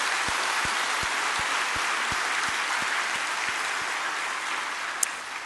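A church congregation applauds together during an autumn revival meeting on a rainy evening, a steady dense wash of clapping filling the hall, with faint rhythmic low thumps running underneath.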